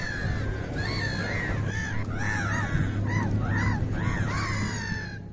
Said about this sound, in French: Le cri des mouettes dans un concert si beau